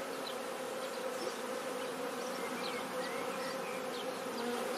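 A steady, dense hum of many honeybees at the entrance of a chalet-roofed refuge hive, continuous and even, heard from close by with no voices over it.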